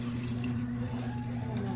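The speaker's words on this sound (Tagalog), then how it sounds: "So, dagdagan natin yung tubig." Extra water is poured into a pan of chicken feet, producing soft, continuous liquid splashing and trickling over a low steady hum, with a voice speaking faintly.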